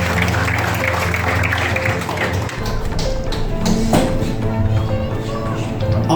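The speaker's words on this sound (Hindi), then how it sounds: "यूसीसीएल परिवार के लिए और यूसीसीएल के पार्टिसिपेंट्स के एक बार जोरदार तालियां हो जाएंगे" A crowd applauds the participants of the UCCL corporate cricket league at its launch event in Dubai, a dense, loud burst of clapping that runs the whole stretch, with some voices mixed in.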